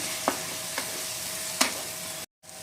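Ginger, garlic and green chilli paste sizzling in a pan for Bengali katla fish kalia, a steady close hiss broken by a few spatula scrapes, with a brief cut to silence near the end.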